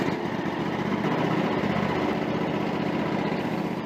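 A small engine with a pulse-style fuel pump, fitted with a metal Mikuni pump, runs steadily at a fast, even idle, close and without talk.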